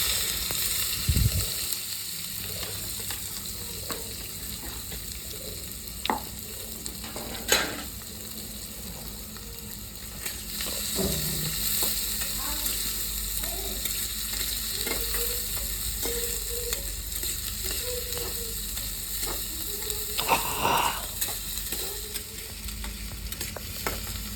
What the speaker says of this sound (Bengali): শুকনো লঙ্কা গোটা জিরে দিয়ে দেবো এবার দিয়ে দেবো কাটা রাখা পেঁয়াজ